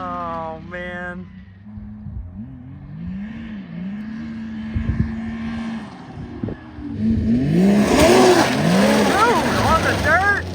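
An SSI/BDX belt-drive machine with a Catalyst clutch spins its wheels on dirt and rocks, engine revving hard with rising and falling pitch and gravel spray, growing louder near the end, with people talking over it.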